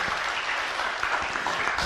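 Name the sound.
audience applause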